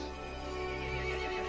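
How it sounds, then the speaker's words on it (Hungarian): Angry horse in the video game Resident Evil Village giving a sustained, loud neigh over a droning game soundtrack. "The horse grew angry and summoned the other monsters."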